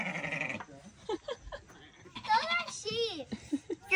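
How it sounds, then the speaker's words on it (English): Sheep and goats bleat on a farm in Kenya, several wavering calls coming close together and fairly near, mixed with people talking and a voice. "Those are sheep. Those are the goats."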